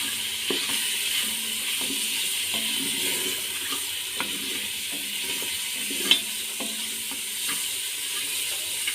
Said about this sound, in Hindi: अब हम इसमें अपनी जो साबुत गरम मसाला लिया था, कुछ चीज़ें और नमक बाकी और जो हल्दी ली थी वो हम शामिल करेंगे।